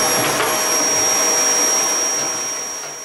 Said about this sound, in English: hoover the whole machine to remove any of the excess dust